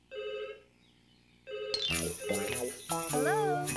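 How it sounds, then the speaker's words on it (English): A telephone rings in a pattern of two short bursts of bright, repeating electronic tones, followed by lively cartoon voices and music. "That was Mrs. Percival from the school on the phone."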